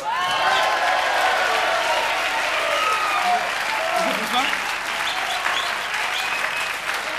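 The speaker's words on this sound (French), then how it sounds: "je vous demande de l'applaudir" A TV studio audience on a French comedy show applauds loudly and steadily in sustained clapping, with a voice speaking over it partway through.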